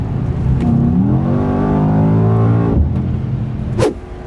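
A 2021 Mercedes E63s accelerates hard and loudly, its engine note climbing through rising revs before a gear shift drop, then a brief whoosh as it fades away.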